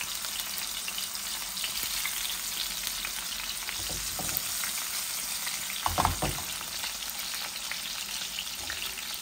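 Four pieces of mrigal fish fry in hot oil in a home kitchen. A loud, continuous crackling sizzle runs throughout, with a brief clatter of stirring or turning near the end.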